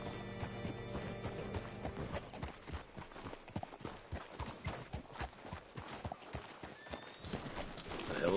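Rhythmic clip-clop of horse hooves at a walking pace in Red Dead Redemption 2, fairly close, with voices talking over parts of it.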